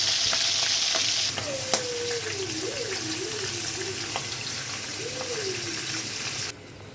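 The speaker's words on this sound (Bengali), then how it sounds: "চলুন মাছগুলো আগে ভালোভাবে ভেজে নেই" Boal fish frying in oil, a continuous close sizzle with a sharp crackle, while someone speaks over it.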